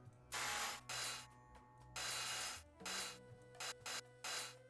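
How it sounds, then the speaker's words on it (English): Angle grinder cutting through a ship's hull in Ship Graveyard Simulator 2, heard as several loud, harsh bursts of grinding of varying length separated by short pauses over a steady low hum. "Get the grinder out."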